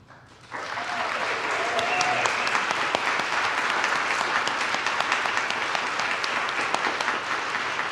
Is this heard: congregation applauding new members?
yes